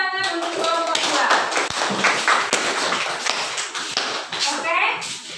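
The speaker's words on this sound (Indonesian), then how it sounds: "beri tepuk tangan untuk kelompok 2" A group of children in a classroom claps in a burst of scattered, uneven applause while children's voices chatter underneath.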